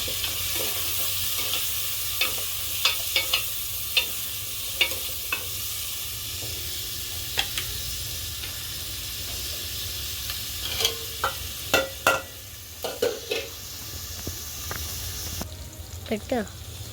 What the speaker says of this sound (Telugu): ఉల్లిపాయలు పచ్చిమిర్చి వేగాయి ఫ్రెండ్స్.